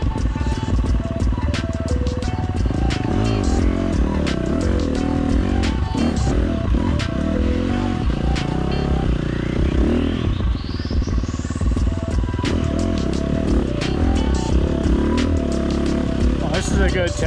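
A motorcycle fitted with a Tokyo Mods Vortex ECU rides a rough, blown-out dirt trail, its engine chugging loudly and continuously in a higher gear with revs rising and falling, while someone talks over the noise.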